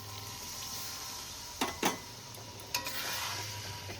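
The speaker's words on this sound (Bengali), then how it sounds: "জলটা আমি আগে থেকে ফুটিয়ে রেখেছিলাম, সেই জলটাই আমি দিয়ে দিচ্ছি।" Pre-boiled water goes into a pan of simmering aloo dum potato curry, giving two or three short hissing bursts over a steady low kitchen hum.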